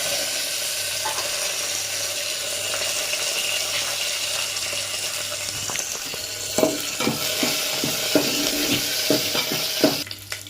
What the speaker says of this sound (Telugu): ఆవాలు, మినప్పప్పు, జీలకర్ర వేసుకుంటాం.